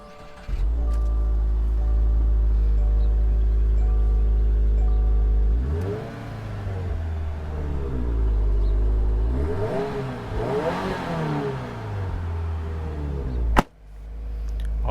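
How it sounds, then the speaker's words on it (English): A 2022 Subaru WRX base's boxer engine, heard from inside the car, holds a steady low idle hum, then revs up and down a few times before a sharp thump near the end. "I really like the sound of this boxer engine"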